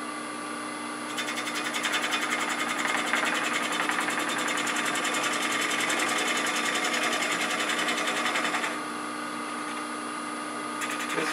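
Wood lathe turning a rough-turned, green Bradford pear bowl being reversed for a light cut, giving a steady, fairly loud mechanical whir with a dense rapid buzz that holds for several seconds before easing back to a lower hum.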